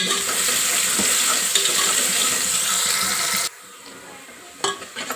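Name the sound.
onions frying in oil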